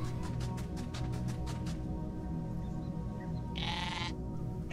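A goat bleats in a stuttering, wavering cry lasting over a second, then gives one shorter bleat a moment later, close and clear over a low steady background hum.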